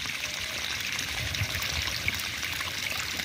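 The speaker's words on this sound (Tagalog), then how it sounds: "Pag lalagyan kasi siya ng tubig is lalabas yung daga" Water is poured steadily into a rat's burrow in a Nepali village to flush the rat out. The splashing gush is continuous and fairly close, with no pause and no voices.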